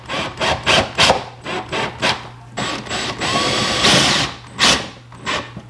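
Self-tapping 1-inch screws being driven without pilot holes into a carbon fiber rear diffuser on a Toyota GR86, heard as a string of short, close whirring bursts followed by one longer sustained run and two more quick bursts, with no talking.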